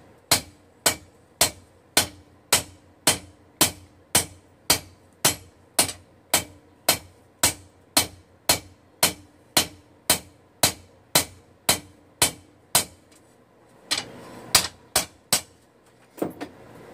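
Hammer blows rough in the bevels on a hot steel gladius blade at the forge, sharp ringing strikes landing in a steady, even rhythm about twice a second, then a short pause and a few final hits.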